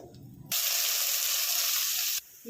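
Mustard seeds, cumin and curry leaves hit three spoons of hot oil in a pan, bursting into a loud, steady sizzle that starts abruptly and holds for nearly two seconds before cutting off.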